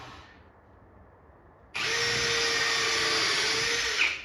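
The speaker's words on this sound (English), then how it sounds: "I'm going to sit here and drill a hole about every foot. I'm using this countersinking bit here." Low background hum gives way to a power drill with a countersinking bit suddenly whining at high speed into wood, a loud sustained buzzing grind that holds steady for a couple of seconds before easing off.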